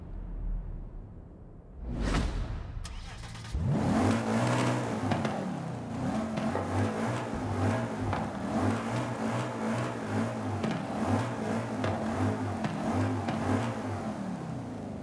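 An engine in Forza Horizon 5 starts with a whoosh and a sharp crank, then a deep 4.2-litre naturally aspirated 450 hp V8 idles and revs with a steady, throaty rumble.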